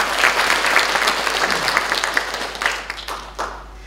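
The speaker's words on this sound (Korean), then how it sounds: "박수 한번 보내주십시오" An audience applauds at a provincial public-health award ceremony as a commendation is presented, a dense, steady burst of many hands clapping close by that thins and fades toward the end.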